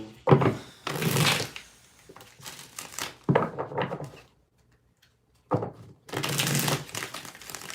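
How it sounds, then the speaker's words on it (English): A tarot deck shuffled by hand, close by in a few distinct riffling bursts with a quiet gap before the last one, and no voices. "2 more shuffles."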